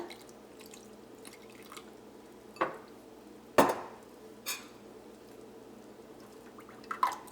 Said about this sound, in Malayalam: ഈ കോൺഫ്ലവറിലേക്ക് നമുക്ക് കുറച്ച് വെള്ളം ഒഴിച്ചിട്ട് കുറച്ച് വെള്ളം പോലെ ഒന്ന് കലക്കിയെടുക്കാം